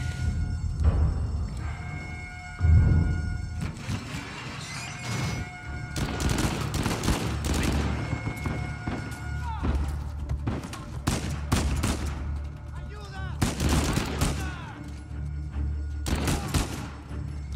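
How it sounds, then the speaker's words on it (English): Shotgun blasts from Uncharted 4 ring out in a chaotic firefight, several heavy booming shots scattered across the stretch, mixed with other gunfire, impacts and game sounds throughout. "Holy hell, that shotgun is overpowered."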